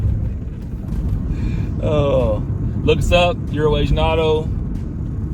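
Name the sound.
1995 Buick Park Avenue Ultra supercharged 3800 engine running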